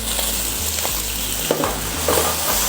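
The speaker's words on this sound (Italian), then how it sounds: "ci mettiamo la salsiccia sbriciolata" Crumbled sausage sizzles and fries steadily in a pan, a continuous broadband crackle with occasional louder pops and stirring scrapes, close and alone without talk.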